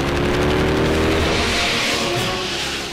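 A cartoon race car engine roars in one loud, continuous revving burst, dense and close, fading slightly at the end.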